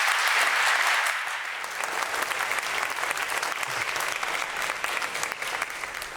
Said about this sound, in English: Can we have a final round of applause for Leslie?